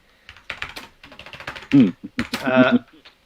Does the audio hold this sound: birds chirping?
no